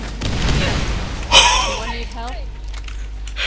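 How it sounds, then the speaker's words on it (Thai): An explosion goes off in the video game Borderlands, a sharp loud burst over background game noise, followed by excited voices talking. "เฮ้ยเราระเบิดเฉยบ้าเลย"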